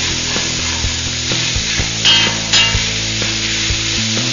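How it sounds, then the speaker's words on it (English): Fennel, leeks, peppers, garlic and tomato paste sauteing in a pan for a cioppino base, steady soft sizzle with a wooden spoon clacking and scraping intermittently, close by and without talk. "I'm sauteing it together."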